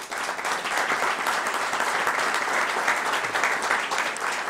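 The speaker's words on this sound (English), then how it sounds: "Give them a round of applause." An audience at a veterans recognition breakfast applauds the sheriff and honor guard, with full, steady clapping from many hands throughout.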